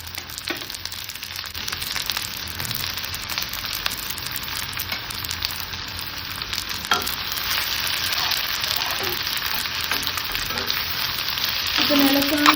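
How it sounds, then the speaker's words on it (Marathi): Onions fry in an iron kadai with a loud, continuous sizzle and crackle, the spatula stirring now and then. "तळून घ्यायचं चांगला कांदा."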